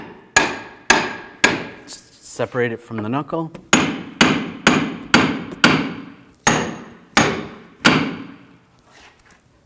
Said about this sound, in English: I'm just going to take a big hammer and just give it a tap.